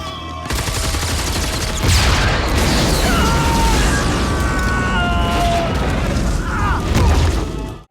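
Action movie gunfire and explosions fill a dense, continuous barrage of shooting bursts and booming blasts, loud and sustained, with whooshing and metallic ringing layered throughout.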